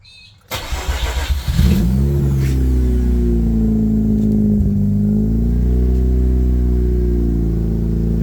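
A Mazda RX8 with a bridgeport-tuned rotary engine cranks and fires up, then settles into a loud, steady, lumpy idle with slight revving swells, close up and without speech.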